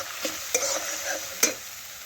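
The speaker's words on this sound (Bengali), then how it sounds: "এখন ভালোভাবে মশলা কষে নিচ্ছি, তাহলে আদা জিরের কাঁচা গন্ধ চলে যাবে।" Spices with ginger and cumin fry and are stirred in a pan over a soft sizzle, with a few quick scraping strokes standing out near and clear.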